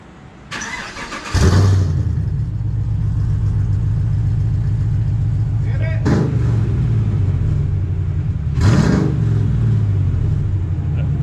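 Chevrolet Silverado Z71 V8 fitted with a custom stainless steel exhaust, Borla Atak muffler and resonator, starts with a sharp crank then settles into a steady, deep, loud idle rumble, with two brief revs blipping up partway through.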